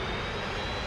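Steady, dense jet roar from an MD-82 airliner's engines in a flight simulator game, loud and unbroken for a brief moment with no voices.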